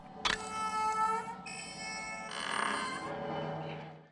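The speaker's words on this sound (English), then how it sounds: "This unique sound was created by hitting a large tuning fork on a hard surface, causing it to vibrate, then immediately placing it on a stringed instrument" A large tuning fork struck on a hard surface and pressed onto a stringed instrument rings out in an eerie horror-film tone: a sharp strike followed by a sustained, shimmering metallic drone whose overtones swell and shift before slowly fading.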